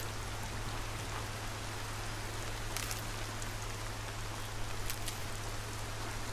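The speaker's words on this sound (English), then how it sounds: "Rain stops in 5 seconds." Steady rainfall in the Horizon Zero Dawn video game on PC, a constant broadband hiss with a low hum beneath and occasional brief splashy ticks, continuous and moderately loud with no talking.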